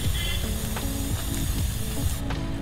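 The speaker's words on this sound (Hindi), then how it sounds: "दूसरे हाथ से हम अच्छे से चेन स्प्रे इस पे लगा देंगे" Chain lube sprays onto the chain of a Triumph Scrambler 400X motorcycle while the rear wheel is spun by hand, a loud steady aerosol hiss with faint mechanical clicks underneath.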